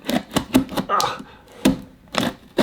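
A knife slits through the tape and cardboard of a Dell Precision 7760 laptop box in a run of sharp, close scraping strokes, each a quick rasp, with short gaps between them.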